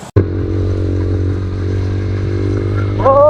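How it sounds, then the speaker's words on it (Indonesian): An old motorcycle on a small touring ride idles with a rough, steady low drone after a sharp cut at the start, then a rising whine near the end as it sputters and struggles. "Oh, berapa kali mogok ini motor."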